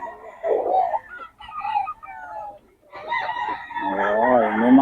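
A rooster crows loudly and close by at a chicken market in Bocaue, a long drawn-out call near the end, following earlier clucking and fowl noises with a little background chatter.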